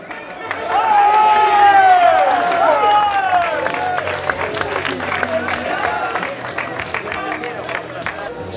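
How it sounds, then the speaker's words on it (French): A crowd applauds and cheers for firefighters at a rope challenge event in Grenoble. A loud burst of clapping and whoops swells early, then settles into steady scattered clapping with crowd babble. "on les applaudit."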